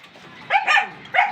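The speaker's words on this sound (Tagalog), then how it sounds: "Ayan yung aso ko may ingay." A dog barks in a few short close yips and barks at snack time, sharp bursts separated by brief gaps.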